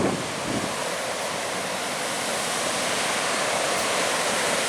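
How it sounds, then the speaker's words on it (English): A waterfall on the Laugavegur trail in Iceland pours with a dense, continuous roar and hiss, loud and steady throughout, mixed with some wind buffeting, and no one speaking. "This is a cool spot to see the waterfall."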